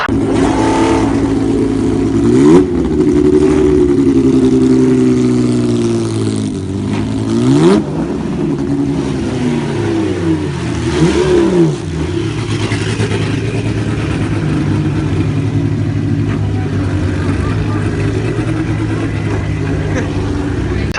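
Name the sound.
V8 Toyota NASCAR revving, spinning wheels at Goodwood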